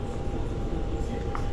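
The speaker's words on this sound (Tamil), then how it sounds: "இந்த ட்ரெயின் பிடிச்சி போகணும் நம்ம" Taipei-area Taiwan MRT metro train, a dense, low rumbling roar of a train in motion, close and steady through the whole short moment.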